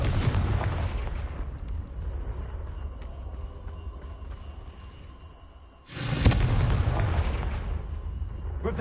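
Confringo blasting spells going off in Hogwarts Legacy, one deep boom fading over several seconds and then a second sharp, loud blast, with no voices.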